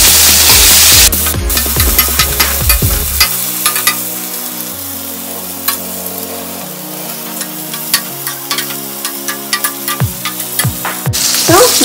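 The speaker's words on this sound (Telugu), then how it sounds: "లైట్గా కారం, కొంచెం సాల్ట్ వేసుకొని బెండకాయల్ని బాగా ఫ్రై చేయాలి" Okra frying in hot oil with chili powder and salt, a steady bright sizzle with scattered pops and crackles throughout, plus a low hum underneath, loud and close with no voices.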